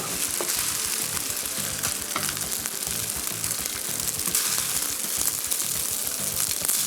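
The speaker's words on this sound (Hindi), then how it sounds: "इसको हल्का सा एक और बार हम हल्का सा टॉस करेंगे बिफोर सर्विंग।" Chicken vegetable fried rice is tossed in a hot pan, a steady close, loud sizzle with scraping and stirring textures running throughout, no talk.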